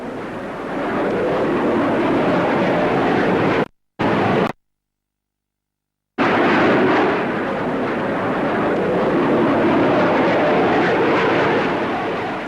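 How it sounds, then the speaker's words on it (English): Hawker Hunter jet roaring past at a 1950s Farnborough air show, a loud broadband rumble that cuts out in two short gaps before returning steady and strong. "Finally, to round off this great show, the Hawker Hunter."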